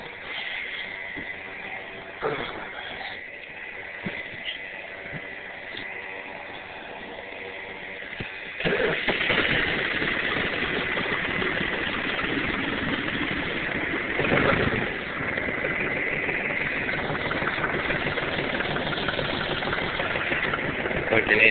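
John Deere tractor engine cold-starting on a frosty morning: a short cranking stretch, then the engine catches at about nine seconds and settles into a loud, steady, rough idle close by, with faint background voices.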